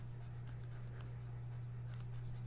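A pen sketches lightly on paper while a map of town and castle walls is drawn, faint soft scratching strokes under a steady low electrical hum, with no talk.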